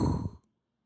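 A person imitates the soft, normal vesicular breath sound of a child's lungs heard through a stethoscope, a single breathy exhale that fades out after a fraction of a second.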